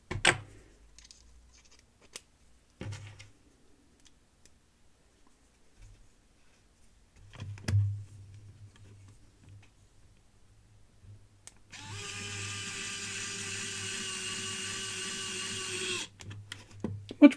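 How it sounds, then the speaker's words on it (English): While an electric shaver is being repaired, scattered clicks and handling knocks come first, then an automatic screwdriver whirs steadily for several seconds, turning screws close up. "use our automatic screwdriver?"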